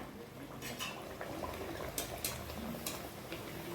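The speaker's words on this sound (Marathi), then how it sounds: "तेल गरम झालेलं आहे ह्याच्यामध्ये आपण पुऱ्यात सोडूया" Masala puri dough frying in hot oil on a medium flame, a steady low bubbling sizzle with brief brighter crackles, close and continuous without talk.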